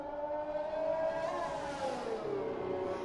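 A Formula 1 race car engine revs during practice at Bahrain. It is a faint, distant, high whine that climbs and then drops as the car passes, with no voices.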